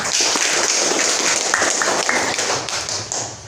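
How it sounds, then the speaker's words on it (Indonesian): A class applauding together, a steady dense patter of clapping that fills the whole stretch and thins slightly near the end, with no talking. "Kita kasih tepukan."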